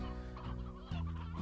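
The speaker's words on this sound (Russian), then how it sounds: "Так, тут у нас обычные курицы." Ordinary white chickens in the game Slime Rancher cluck in short, close, soft bursts, several overlapping calls with no talk over them.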